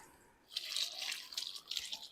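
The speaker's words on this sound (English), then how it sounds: "So I'm going to put some water at the bottom of this" Water is poured into the bottom of a steam canner, a close splashing and trickling stream that starts after a brief pause and continues with uneven gurgles.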